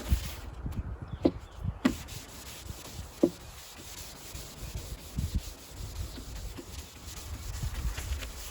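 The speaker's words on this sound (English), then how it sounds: "And then we're gonna sand it." Folded sandpaper rubbed by hand over wood on a farm project, a steady close scratchy rasping with a few sharper strokes standing out, and no talking.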